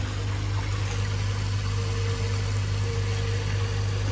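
Vacuum pump running steadily after a slide valve seal replacement, a continuous low motor hum with a faint hiss and mild vibration throughout, close by and with no talk.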